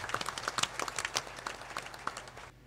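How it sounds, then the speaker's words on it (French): A small gathering claps for women who came from the villages, a faint, sparse patter of individual claps that thins out and stops near the end. "Applaudissez pour ces femmes-là"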